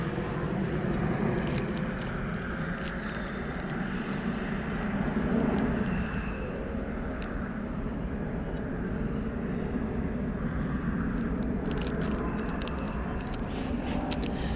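A jet aircraft at the very end of the runway at East Midlands Airport, giving a steady, loud, rumbling engine roar that stays continuous across the whole stretch, with light rustles and wind.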